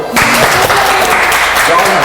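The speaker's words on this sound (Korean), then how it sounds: "아, 박수 한번 주세요." A group, likely children at a road safety activity, breaks into loud, dense clapping that fills the whole stretch, close and continuous with voices mixed in.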